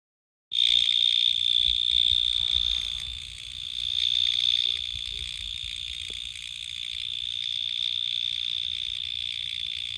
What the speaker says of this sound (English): It's the crickets.